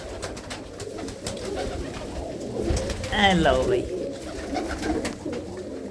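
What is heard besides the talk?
pigeons cooing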